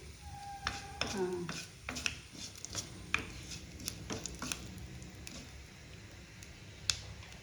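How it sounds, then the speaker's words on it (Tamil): Fennel seeds splutter in hot oil in a pan for brinjal kadayal, a soft sizzle with scattered crackling pops and a few spoon-on-pan clinks nearby. "இப்போ சோம்பு போட்டியா, இது நல்லா வந்து பொரியட்டும்"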